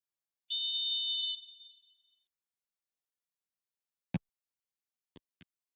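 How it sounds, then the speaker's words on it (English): A referee's whistle in eFootball blows one long, shrill blast to start the second half of a Milan match, fading out quickly, with a few faint clicks afterward. "Whistle goes, and we start the second half"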